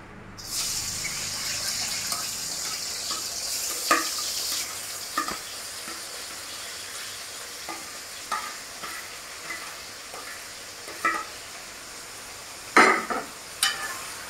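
Onions frying in hot oil for a chicken curry: a steady bright sizzle throughout, broken by repeated clacks and scrapes of a spoon stirring in the pan, close and fairly loud, with no voices.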